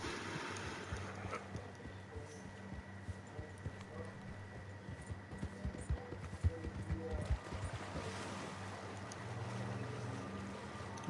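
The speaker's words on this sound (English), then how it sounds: "I'm glad the horse can swim." Rhythmic hoof clopping mixed with sloshing water and faint splashes as a horse swims in Red Dead Redemption 2, with a synthetic game-like ambience; a voice talks intermittently underneath.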